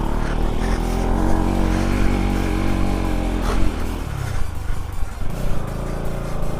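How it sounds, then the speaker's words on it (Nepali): Off-road motorcycle ride with a steady, loud engine drone and low rumble that drops in pitch and roughens toward the end as the bike struggles to pick up. "मेरो बाइकले फेरि पिकअपै लिन खोज्दैन"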